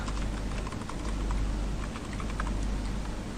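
Rapid keystrokes on a computer keyboard, typing a search term into Google, clatter steadily and close up with no talking.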